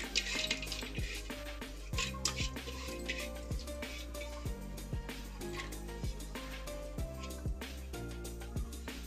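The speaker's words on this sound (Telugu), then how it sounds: "వాటర్ తీసుకున్నాక దాంట్లో మనం శనగపప్పు క్లీన్గా వాష్ చేసుకొని" Chana dal (Bengal gram) is rinsed by hand in water, giving soft sloshing and swishing with repeated light clicks and clinks of grains against a vessel, close and fairly quiet.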